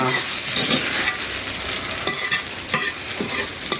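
Water spinach greens sizzle steadily in a hot pan while a utensil scrapes and stirs them in repeated strokes, close up, no talking.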